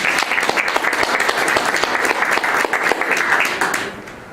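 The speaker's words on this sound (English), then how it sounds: "we get a round of applause for Eleah" An audience applauds a speaker at a talk, with dense continuous clapping at full strength that tapers off near the end, and no talking.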